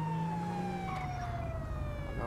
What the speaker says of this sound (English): Sirens on because why not, eh?